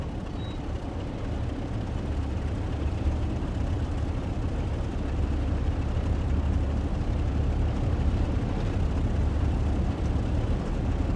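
A locomotive in Train Sim World 3 works hard under heavy throttle, giving a loud, steady, deep rumbling roar that holds constant throughout with no voices.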